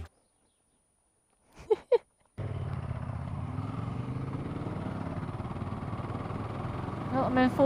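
A car engine hums at a low, steady drone as the car pulls away in fourth gear, with a couple of short voice sounds just before it and a slight rise near the end.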